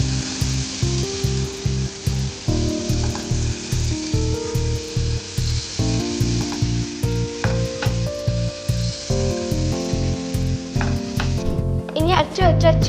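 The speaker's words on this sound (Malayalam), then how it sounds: "ചൂടുള്ള പാനിൽ നമുക്ക് ഇത്തിരി ബട്ടർ ഇടാം. ഇനി നമ്മൾക്ക് സവാള ഇടാം." Onion frying in butter in a hot pan, a steady loud sizzle with occasional stirring scrapes, close up, with no talking.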